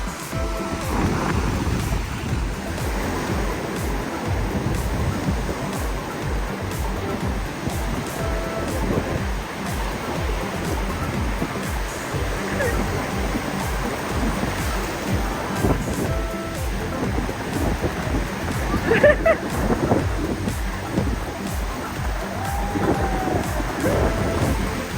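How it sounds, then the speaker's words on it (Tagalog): Calm sea waves at a beach on Boracay, a steady wash of surf with a broad rushing texture and a slightly louder surge near the end; no speech. "Kalmahan lang yung dagat ngayon. Ganda. Kalma lang siya"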